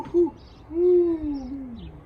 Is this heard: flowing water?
no